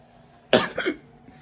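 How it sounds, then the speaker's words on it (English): A single sharp cough burst followed quickly by a second, softer cough, close and fairly loud against a quiet background. "I have this like cough"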